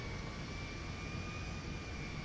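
A Boeing 747 modelled as Air Force One flies in GTA 5, giving a steady, broadband jet roar with a faint whine running through it, constant and fairly distant throughout.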